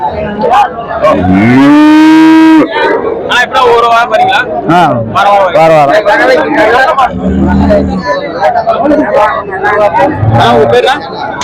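Sindhi cattle moo loudly and repeatedly at a busy livestock market, one long drawn-out call standing out near the start among shorter lows, all over constant crowd chatter and nearby voices.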